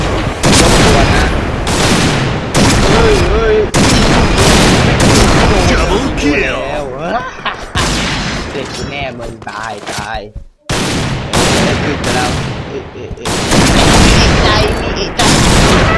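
A Barrett M82A1 rifle fires in the online shooter Point Blank, with loud, heavy gunshot bursts repeating over about sixteen seconds and a brief lull midway, while a voice talks excitedly over the gunfire.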